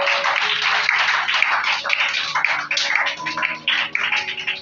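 A church congregation claps and cheers in praise of the Lord, a dense, steady wash of hands and voices filling the room for several seconds.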